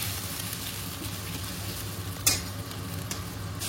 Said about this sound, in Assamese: আমি এই পিঁয়াজটো দি দিম এইখিনি ধুনীয়াকৈ ফ্ৰাই কৰি ল'ম